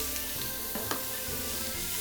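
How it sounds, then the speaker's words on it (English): Ground beef sizzles in a very hot pan for an Italian Bolognese, a steady close hiss with a couple of brief spoon clicks and scrapes, with no talking. "the ground beef. This pan is really hot."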